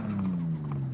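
A tuned 510-horsepower car engine in Forza Horizon 5 holds a low, steady droning growl whose pitch sags slightly over a second, with no talking.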